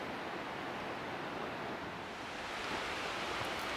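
The Green River flows through a forested gorge as a steady, even rush of water, distant and continuous, with no other sounds.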